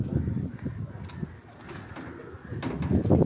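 Pigeons coo in low, repeated throaty calls, close by and continuous, with faint background noise.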